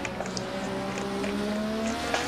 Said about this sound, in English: But the engine doesn't sound bad.